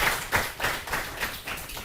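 An audience applauds a student contestant with faint, evenly spaced rhythmic claps, roughly three per second, heard fairly distant and without talk over them.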